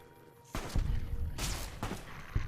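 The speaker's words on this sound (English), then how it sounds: "I don't know how I feel about things exploding when I shoot them." Gunfire and explosions in the video game Fallout: New Vegas: a burst of shots and blasts breaks in suddenly after a quiet start, with several sharp loud hits following one another.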